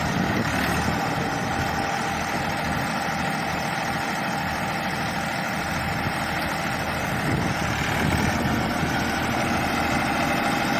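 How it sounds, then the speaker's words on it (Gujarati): A Massey Ferguson 241 42 hp tractor engine idles steadily nearby, a continuous low rumble with mechanical vibration throughout, no voices. "બસો 41 મેજિક ફર્ગ્યુસન 42 એચપીનું રેગ્યુલર ટ્રેક્ટર છે।"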